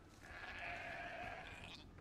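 A sheep bleats in Age of Empires II: Definitive Edition, one drawn-out, wavering bleat lasting about two seconds over a low game ambience, fairly soft and alone.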